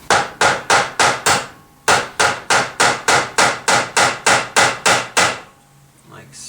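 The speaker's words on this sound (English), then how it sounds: "we'll just kind of hammer these down" Metal parts of a Victorinox Spartan Swiss Army knife hammered down against a vise or table: two quick runs of sharp, evenly spaced blows, about five then eleven, loud and close with no talk.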